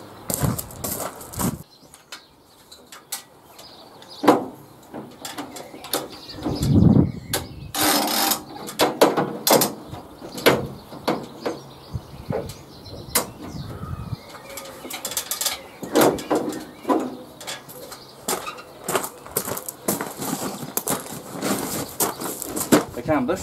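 A heavy-duty canvas canopy goes up over the back door of a work van, with bursts of rustling, flapping fabric and clips and bungees being handled, among pauses and pigeon-like coos.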